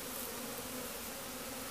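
Honeybees buzz in a continuous, close swarm hum, steady and fairly quiet with no voices.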